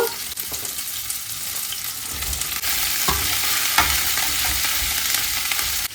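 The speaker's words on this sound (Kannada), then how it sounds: "ಒನ್ ಟೇಬಲ್ ಸ್ಪೂನ್ ಆಯಿಲ್ ಹಾಕಿ ನೀಟಾಗಿ ಫ್ರೈ ಮಾಡ್ಕೊಳ್ಳಿ" Okra pieces frying in a tablespoon of oil in a pan give off a steady, loud, close sizzle, with occasional scraping stirs cutting through the continuous hiss.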